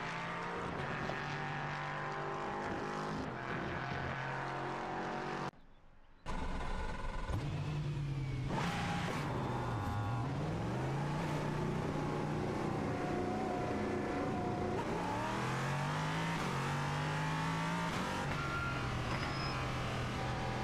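A GT3 race car engine at Jerez in a racing game roars continuously and loudly, its pitch rising through the gears and dropping on downshifts, with a brief cut near the middle and no talking.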